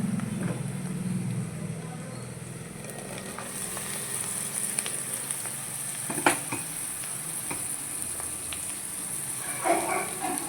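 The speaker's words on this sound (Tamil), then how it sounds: "இந்த பீரக்காய் இதில் போடணும்" Chopped ridge gourd tipped into a hot frying pan for an egg curry, giving a steady soft sizzle throughout with a few sharp clinks of a utensil against the pan.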